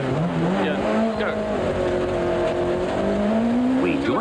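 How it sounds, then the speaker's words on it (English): Jan Habig's Golf Synchro four-wheel drive rally car accelerates hard into stage 1 of the 1993 Swartland Rally, heard from the onboard cam with a loud, steadily rising engine note through the gears and constant road noise. "Habig throttles the 4-wheel drive Golf into stage 1"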